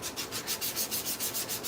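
Steady back-and-forth sanding on a 3D-printed Iron Man neck piece, a rhythmic rasping scrub at about five strokes a second, close up and continuous, with no talking.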